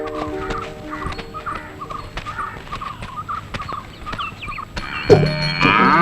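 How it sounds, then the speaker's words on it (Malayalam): A cow moos in a rural farmyard, a few low calls repeating at moderate distance over quiet background noise, followed by a louder, busier burst of sound near the end. "ദേ പശുവിനെ ചോട്ടിക്കാൻ ആൾ വന്നു"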